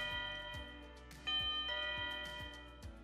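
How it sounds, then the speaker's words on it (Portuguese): An Intelbras wireless doorbell receiver plays a clear electronic chime melody, steady and bright, with a series of descending tones repeating over a few seconds and no talking. "A campainha soa, sinalizando o morador que alguém está chamando."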